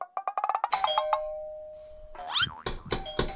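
A doorbell rings repeatedly, with a fast run of bright chimes followed by a sustained ding. A second burst of electronic chiming comes close and loud, with no talk over it.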